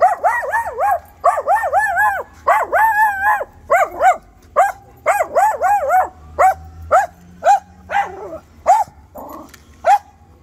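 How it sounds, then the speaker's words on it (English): A small dog barks close by in a steady run of sharp, high yipping barks, about ten over ten seconds, with short gaps between bursts and no talking. "Look at this cute little dog."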